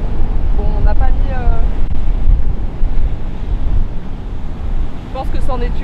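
Heavy surf roars and crashes on rocks near Souillac, Mauritius, amid strong wind buffeting the microphone, with brief bursts of a voice talking over it.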